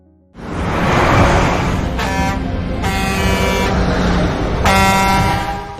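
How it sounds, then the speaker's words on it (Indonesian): A truck barrels down a street toward a child, its loud engine roar running throughout and blaring horn blasts cutting in twice, close and urgent. "Sebuah truk melaju dan nyaris menabrak anak kecil itu."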